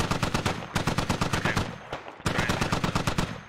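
Heavy machine gun fire in the military shooter Squad, fired from behind a HESCO wall, in long close, loud automatic bursts separated by two brief pauses.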